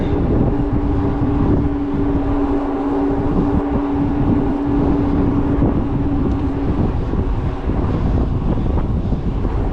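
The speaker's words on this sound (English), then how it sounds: "Motor still feels nice and quiet. And I'll let you listen to it here." Velotric Nomad 2X fat-tire e-bike motor at about 17 mph on a long steep climb: a steady, quiet motor whine over constant wind rush and road noise, the whine fading out near the end.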